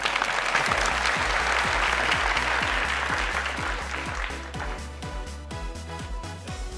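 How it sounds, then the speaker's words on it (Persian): Studio audience on a Family Feud–style game show bursts into sustained applause, dense clapping filling the room loud and steady for about seven seconds, tapering slightly toward the end. "کف بزنید، تشویق کنید که بیاین."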